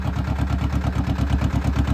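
A tractor engine runs steadily, a loud, close, low rhythmic chugging with an even pulsing beat and no speech over it.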